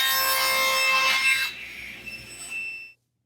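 Barnwood being cut on a miter sled, a loud close saw burst that fades into a ringing blade run-down over a few seconds before cutting off, with no talking.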